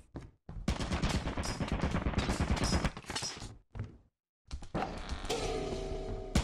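Rapid bursts of gunfire in the game Lethal Company, a loud dense volley cut by a brief silence, then continuing with a steadier mechanical din.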